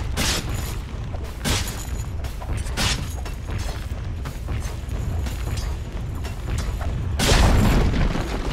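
A Dota 2 tower is destroyed amid loud, booming impacts and crashing mechanical rumbles, with repeated hits and a heavier burst near the end.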